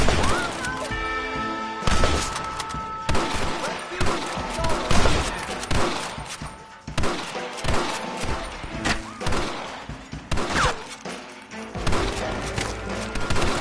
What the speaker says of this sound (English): They're coming out! Gun them down!